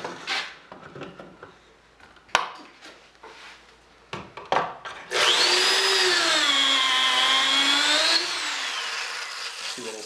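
A few scattered knocks and clatters give way to a loud power drill boring a hole into a DIY wooden workbench, its whine straining and bending in pitch for several seconds before easing off.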